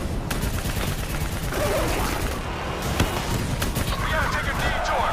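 Dense game gunfire and combat noise from Call of Duty Black Ops 3, a steady rattle of shots with an occasional sharper bang near three seconds, continuing throughout beneath shouted dialogue.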